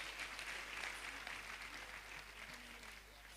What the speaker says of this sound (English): Please recognize the teachers that are here with a round of applause, please.